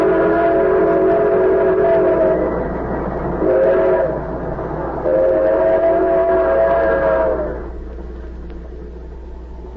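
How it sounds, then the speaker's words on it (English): Radio drama sound effect of a train roaring through the night: a loud, steady rumbling clatter with sustained whistle-like tones that swell, briefly dip, return, then fade to a lower rolling drone near the end. "The train roared through the night"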